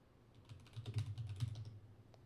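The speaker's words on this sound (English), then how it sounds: "Hold on, I'm typing." Fast bursts of typing on a computer keyboard, a quick cluster of close clicks with soft pauses, no speech.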